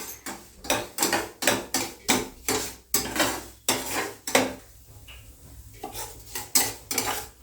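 Semolina being roasted in a pan for sheera, heard as rhythmic scraping strokes of a spoon against the metal pan, repeated close and loud, then briefly softer before the strokes resume.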